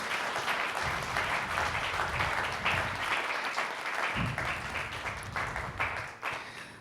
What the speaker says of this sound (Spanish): Den un aplauso al Señor si se lo quiere dar